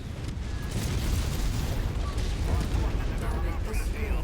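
A destroyed mech explodes in MechWarrior 5 with a dense, rumbling blast roar that holds loud and sustained, with crackling debris and pops scattered through it.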